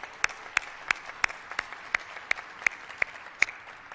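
A small group applauds at a COVID-19 vaccination site press briefing, sharp, evenly spaced claps ringing out one by one over four seconds against a quiet room.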